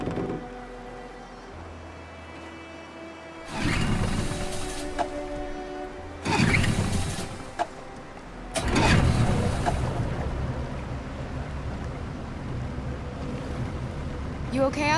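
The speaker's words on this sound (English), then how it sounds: "Let's get that engine going." A boat engine starts up in the video game Detroit: Become Human, with several loud bursts of rumbling noise swelling in and settling into a steady running drone, heard without talk.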